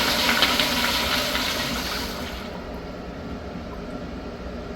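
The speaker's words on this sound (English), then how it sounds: "Let's see how one of these flushes." A Kohler Highcliff toilet with a 2.1-inch trapway flushes nearby: a loud rushing gush of water straight down that quickly fades into a softer draining and refilling hiss, with no talking.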